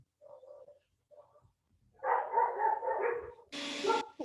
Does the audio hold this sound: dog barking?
yes